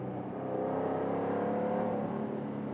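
A 2024 Jaguar F-Type R Roadster V8 engine revs with a deep, steady exhaust rumble that swells and holds, loud and close, with no voices.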